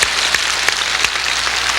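Congregation clapping together during a Korean church Sunday worship service in 1991, a steady dense wash of applause from a large crowd, loud and continuous with no voices over it.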